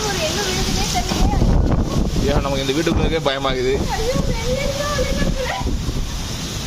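Heavy rain and strong wind during a storm in Dubai, a steady broadband roar of gusts and downpour buffeting the microphone throughout, with a person talking over it.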